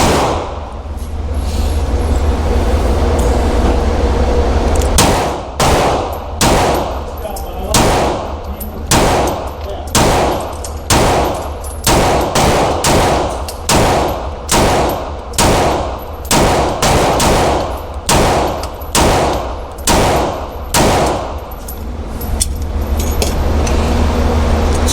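Smith & Wesson M&P metal frame standard pistol fired at a target 7 yards away: a rapid string of about twenty loud, sharp shots, closely spaced and echoing, with no talking.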